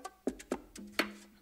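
Drum groove sample from a hip-hop beat with the low end cut away and mids boosted, giving thin, boxy snare and kick hits in a steady loose rhythm with a short tonal ring, quieter and heard alone.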